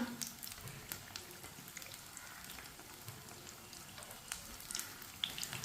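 Pakoras crackling in hot oil in a pan, a steady fine sizzle with scattered pops throughout, moderately close and with no voices.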